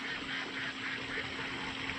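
Ducks quack in a steady, faint chorus against a constant background hum, with no talking.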